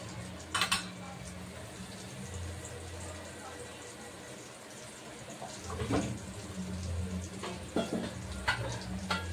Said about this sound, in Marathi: मिक्स करून घेऊया आणि याला तेलामध्ये व्यवस्थित असं वाफून घेऊया आपण